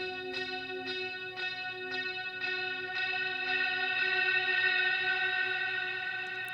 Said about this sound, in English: This is kind of the effects returns that are coming back from the guitar echo.